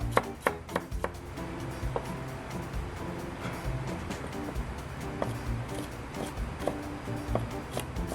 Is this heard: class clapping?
no